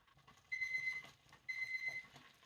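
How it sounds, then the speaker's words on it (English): A kitchen timer beeps in two bursts of rapid, evenly spaced high electronic tones with a pause between them, heard close over faint low background noise while no-bake cookies are cooked on the stove. "Okay, there goes our timer."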